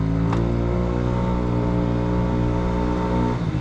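A 1986 Honda Spree NQ50 scooter's small rebuilt engine idles steadily up close, a constant buzzing hum with no talk over it, and one brief sharp tick near the start.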